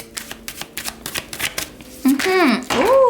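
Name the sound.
shuffling tarot cards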